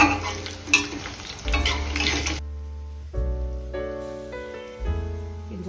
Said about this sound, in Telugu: ఇదిగోండి తాలింపు వేగిపోయింది